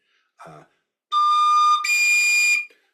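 A tin whistle sounds a high D in two sustained notes, the first about 0.7 seconds and the second slightly brighter and longer, played clearly alone after a short breathy noise.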